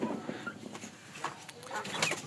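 Fayoumi chickens cluck in short bursts, several birds close by, with soft farmyard background noise.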